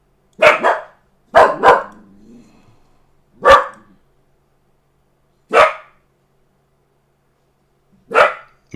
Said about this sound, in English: He loves to bark.